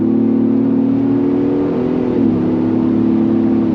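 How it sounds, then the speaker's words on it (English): Exhaust drone from a modified Ford Bronco Raptor while driving, a loud steady low rumble with the pitch dipping slightly midway, heard from inside the cabin with no talking. "It's just, it is noisy with the exhaust, no matter what mode you put it in."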